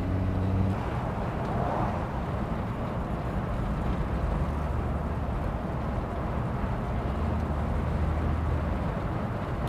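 A 1966 Ford Mustang convertible drives at higher speed, giving a steady, loud roar of engine and road noise with wind rush that holds constant throughout, without talk.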